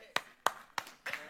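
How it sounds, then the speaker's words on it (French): Rhythmic hand clapping at a church service: about four sharp, evenly spaced claps at a steady beat, with voices around them. "On applaudit tous ou on n'applaudit pas."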